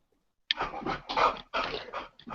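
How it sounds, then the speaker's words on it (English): A dog indoors in a house gives a short run of close, fairly loud growling, whining vocalizations in three bursts, each with a sharp onset, after a brief silence. "I was coming in the house and my dog's distracting me"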